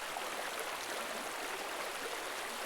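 A river runs through tropical forest in Costa Rica, giving a steady broadband rush of flowing water that stays even and unbroken throughout, with no voices.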